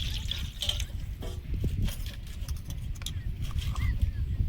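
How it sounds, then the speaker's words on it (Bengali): Water is poured over green chilies while cooking a Bengali koi fish curry, a steady trickling splash with light clatter running continuously over a low kitchen rumble. "কাঁচা লঙ্কার মধ্যে জল নিয়ে নেব।"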